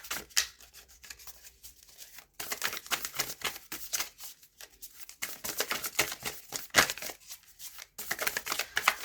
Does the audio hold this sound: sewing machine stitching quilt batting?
no